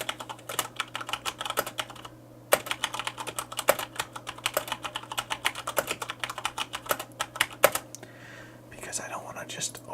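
Close, crisp typing on a Corsair K70 RGB MK2 mechanical keyboard with Cherry MX Brown switches, clicky keystrokes in irregular bursts, some louder thocks, and brief pauses between flurries.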